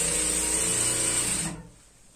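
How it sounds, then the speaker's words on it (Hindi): A sewing machine runs in one fast, continuous whirring burst as it stitches a semi-Patiala salwar, then stops abruptly, leaving near silence. "ऐसे हम इसकी सिलाई करेंगे।"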